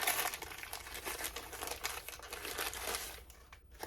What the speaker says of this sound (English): sorry about the rustling.